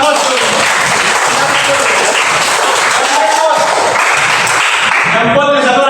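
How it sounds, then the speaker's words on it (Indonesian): A classroom group applauds together, steady dense clapping running the full length at close range, with voices mixed in beneath the clapping. "Berikan aplaus."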